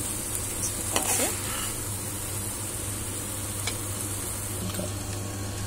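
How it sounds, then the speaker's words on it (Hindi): Spices and garam masala are stirred slowly into vegetable pulao in a pan, with a steady sizzle and soft scraping strokes from the spoon close by and no talk. "अब आप इसको धीरे धीरे दोबारा से मिक्स करेंगे, बहुत धीरे धीरे"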